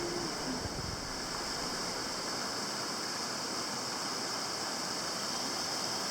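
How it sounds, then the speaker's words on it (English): Jungle waterfalls pour into a small stream, making a constant broadband rushing roar that holds steady and even with no pauses or voices, fairly faint overall. "at the side of these waterfalls that flowed down into a small stream at the bottom"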